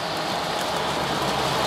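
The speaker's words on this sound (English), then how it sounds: "It's starting to pour down rain" Heavy rain pours down outside during a storm, a steady, dense hiss of falling water that holds at an even level with no voices.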